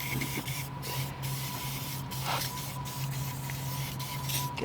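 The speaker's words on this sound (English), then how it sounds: "Just spray her up again." Aerosol spray hissing in steady bursts onto a car's rear coilover shock absorber, close and fairly loud, with short pauses between sprays and no talking.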